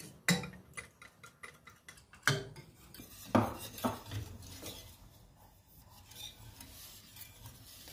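A spoon stirs pudding made with milk, sugar and vanilla sugar in a pot, with a few sharp metallic clinks and knocks against the side followed by softer continuous scraping, close and fairly quiet.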